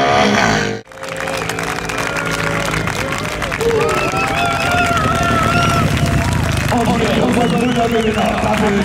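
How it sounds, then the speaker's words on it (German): Large outdoor crowd applauding and cheering at the Glemseck 101 Cafe Racer Sprint 2014, a 1/8-mile motorcycle sprint race, with a dense, sustained roar of clapping and voices after a short pause at the start, under an announcer's voice. "Applaus!"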